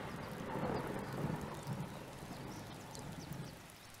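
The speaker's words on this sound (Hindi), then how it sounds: "बहुत तेज बारिश है।" Steady downpour of heavy rain with a dense broadband hiss and low rumbling texture, continuous and fairly loud throughout.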